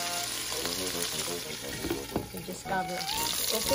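Meat browning in oil in a pan while cooking stir-fried white squash, a steady close sizzle and crackle running under a person talking.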